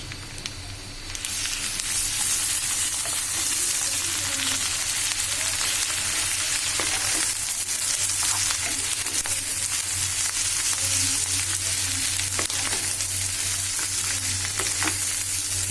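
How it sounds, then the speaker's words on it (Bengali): Minced beef sizzles steadily in a pan of onion paste for a beef vorta, a loud continuous frying hiss with occasional stirring scrapes and no voices. "পেঁয়াজ বেস্তার মধ্যে এবার মাংস কিমাটা দিয়ে দিব মাংস কিমা দিয়ে দিচ্ছি"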